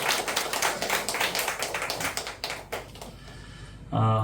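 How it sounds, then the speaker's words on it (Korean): A Korean church congregation applauds during a worship service marking a holy day, steady dense clapping from many hands that thins out near the end as a voice and low tones come in. "이렇게 함께 박수 한번 올려주시면 좋겠습니다"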